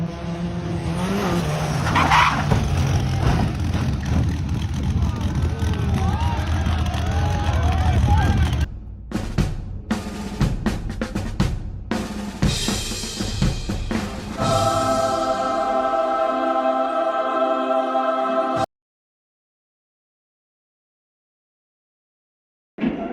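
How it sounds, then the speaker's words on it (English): Two heavy pickup trucks crash, caught on a dashcam: a loud rush of tyre and engine noise, a sudden drop, then scattered sharp impacts and skidding, followed by a stretch of near silence. "Big crash. 2 heavy pickups decided not to follow the rules."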